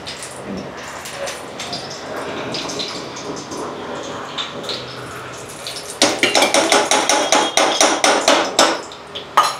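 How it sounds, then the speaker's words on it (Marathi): Cumin and mustard seeds sizzling and spluttering in several spoonfuls of hot ghee in a pan on low gas, a soft hiss that breaks into rapid loud crackling pops over the last few seconds, with no speech. "जिरा तडतड करायला लागलाय"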